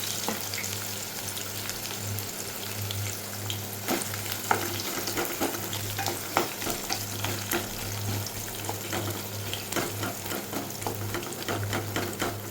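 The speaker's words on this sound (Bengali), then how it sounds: "এই পেঁয়াজটাকে কুচিটাকে দিয়ে দিলাম তেলের মধ্যে" Chopped onion frying in hot oil, a steady close sizzle and crackle with occasional sharp pops and stirring scrapes, no talking throughout.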